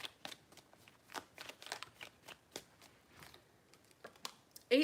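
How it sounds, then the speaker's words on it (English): Tarot cards being shuffled in a series of crisp riffling bursts with short pauses between, close and fairly quiet, three rounds of shuffling in a quiet room with no talking. "Three shuffles."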